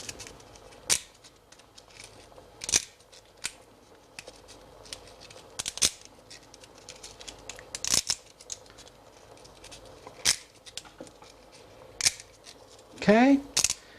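Dry spaghetti cut into small pieces for Moroccan harira soup: crisp, close snipping clicks at irregular intervals, about eight in all, with a quick rattling burst near the end.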